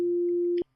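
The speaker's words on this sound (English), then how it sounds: "So another sine wave, of course." A pure, steady sine wave tone from an FM8 synthesizer oscillator holds one unwavering pitch, loud and alone, then cuts off abruptly with a soft click.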